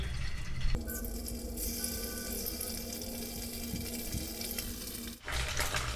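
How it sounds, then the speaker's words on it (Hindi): Paneer fries in hot mustard oil in a kadhai, a dense, steady hiss and sizzle that starts abruptly, holds for several seconds close by, then cuts off, with no speech. "अब इसमें हम पनीर डालकर तल लेंगे।"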